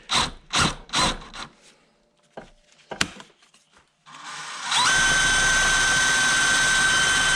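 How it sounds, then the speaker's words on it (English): A hand drill bores into a hard steel hitch, with several sharp bursts and clanks first, then a loud, steady whine of the drill biting into the metal. "Now I'm just going to hand drill these because these aren't critical dimensions or anything."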